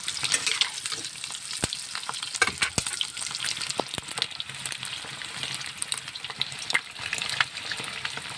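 Eggs fry in oil in a pan for egg curry, giving a steady, close sizzle broken by scattered crackles and a few sharp pops or utensil taps, with no voices.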